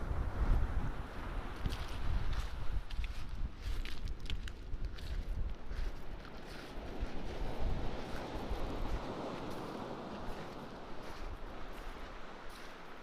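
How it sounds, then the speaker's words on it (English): Waves wash continuously onto a pebble shore at Caliso Bay, Waterford, a soft, fairly faint surge and rattle mixed with gusty wind. "the sound of the waves crashing against the shore"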